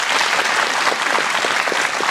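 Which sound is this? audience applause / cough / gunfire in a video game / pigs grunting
audience applause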